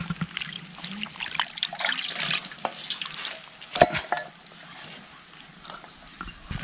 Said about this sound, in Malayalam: അങ്ങനെ ഒരു വെള്ളം ഒഴിച്ച് കഴുകി